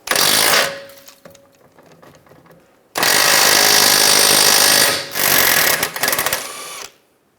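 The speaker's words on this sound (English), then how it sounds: "Using a 19mm socket, take this nut off." A power tool whirs loudly as it removes a nut with a 19mm socket on a 2004-2009 Toyota Prius rear shock absorber, a short burst, a pause, then a long sustained run cut off abruptly.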